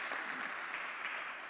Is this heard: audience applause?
yes